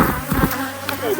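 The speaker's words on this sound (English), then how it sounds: "as you can see, bees are still around us. This hive is still a pretty angry hive" Honey bees from an aggressive, agitated hive buzz densely and continuously close by, a steady swarming drone with individual insects swelling louder as they pass.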